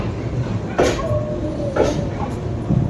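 The Sealdah-Balurghat Express with LHB coaches pulls out of the station on a cold night, a low rolling rumble broken by a couple of sharp clanks heard from inside the train.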